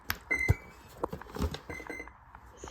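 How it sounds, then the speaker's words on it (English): A brushless electronic speed controller plugged into an S8R receiver gives a few short electronic beeps, close and clear, with scattered handling clicks in between and no talking. "See, 2 beeps."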